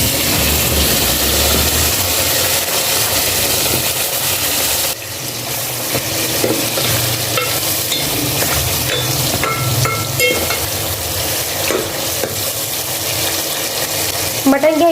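Mutton dropped into a pot of fried spices and onions, a loud, dense sizzle that starts abruptly and then settles into steady frying with stirring scrapes, close and continuous, with no talking.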